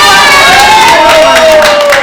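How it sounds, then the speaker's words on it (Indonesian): Children cheering and clapping at a Sunday school gathering, a steady, loud wash of crowd noise lasting throughout, with a sustained whistling tone gliding through it. "Kasih tepuk tangan dong."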